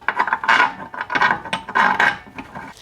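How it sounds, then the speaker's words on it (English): Long bolts being screwed into the metal stand of a Metabo HPT 10-inch jobsite table saw, giving a busy run of close metallic clicks, ratcheting and scraping with no talk. "We're gonna go ahead and screw these in there."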